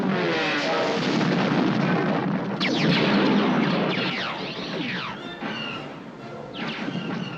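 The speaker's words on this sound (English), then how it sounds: "Explosions were also enhanced by animation and sound effects." Movie explosion effects for Star Wars: The Empire Strikes Back, heard as a continuous loud rumbling roar with swooping, descending whistles and layered blasts, dense and sustained throughout with no pause.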